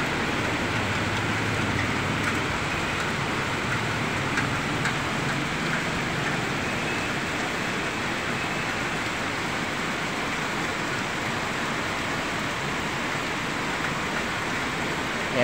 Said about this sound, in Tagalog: Ngayon lang umulan dito.